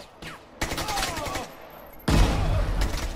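Gunfire in the video game Caliber, two bursts of rapid automatic fire, close and loud, the second heavier, with brief gaps between them and some voice in the background.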